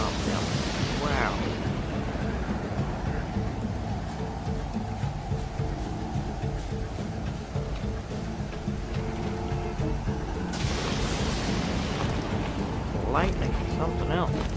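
A thunder and lightning storm in a raft survival video game, with steady rain hiss and low rumbling throughout and sharper cracks near the start and end, all under continuous talk.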